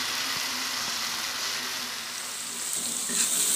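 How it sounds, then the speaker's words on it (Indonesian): Blended spice paste sizzles as it is sautéed in a pan for an East Javanese black squid dish, giving a steady, loud broadband frying hiss with small crackles throughout and no voices. "Bumbunya kita tumis ini sampai yang bumbu halusnya tadi benar-benar matang ya."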